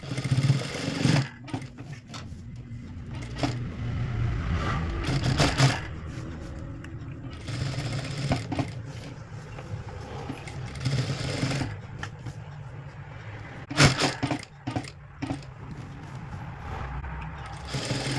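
A sewing machine stitches blouse fabric folded underneath, running in short intermittent bursts of rapid mechanical whirring separated by pauses, close and moderately loud over a quiet room.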